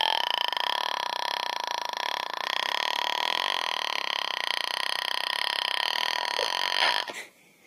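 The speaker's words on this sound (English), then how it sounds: "It's real burps, and it's really long for girls." A girl lets out one very long, loud continuous burp lasting about seven seconds with a steady droning tone, then it cuts off abruptly.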